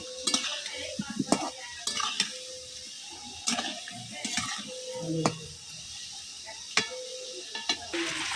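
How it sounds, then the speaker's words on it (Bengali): Potato pieces fry in a pan and are stirred, with a soft sizzle behind repeated scraping and clinking of a metal utensil against the pan in irregular bursts; no voices. "আলু ভাজা মোটামুটি হয়ে গেছে একবার লাল লাল করে এখন এগুলোকে এক এক করে করে নামিয়ে নেব"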